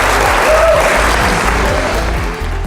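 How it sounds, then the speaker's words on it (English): Conference audience at a real estate event bursts into loud, sustained applause with dense clapping that fills the room, easing slightly near the end, with a low musical bed underneath. "Give yourselves a round of applause."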